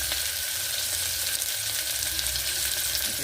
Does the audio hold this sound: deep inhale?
no